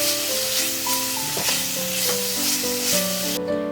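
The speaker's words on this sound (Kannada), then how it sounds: "ಸ್ವಲ್ಪ ಆಯಿಲಲ್ಲಿ ನಾನು ಸ್ಟಿರ್ ಫ್ರೈ ಮಾಡ್ತಾ ಇದ್ದೀನಿ" Vegetables stir-fry in a little oil in a pan, a dense continuous sizzle heard close up with background music playing over it.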